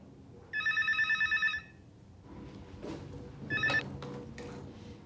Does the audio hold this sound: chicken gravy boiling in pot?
no